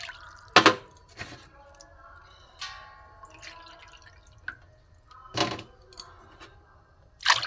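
Bowlfuls of water poured into a pot for a semolina papad recipe land as brief splashing gushes spaced several seconds apart, with drips, light clunks of the bowl and quiet gaps between.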